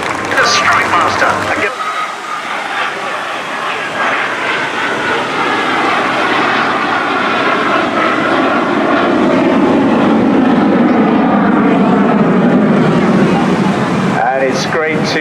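A vintage BAC Strikemaster jet roars past at a seaside airshow in Torbay, a loud sustained engine whine and rumble that swells and shifts pitch as it passes, with a commentator talking over the noise.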